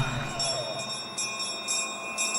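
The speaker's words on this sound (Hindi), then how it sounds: "घंटी की आवाज सुनकर निशाना लगाइए अंकल।" A bell rings in a tense dramatic scene, giving several faint repeated metallic strikes with a lingering tonal ring, heard fairly quietly over a steady background.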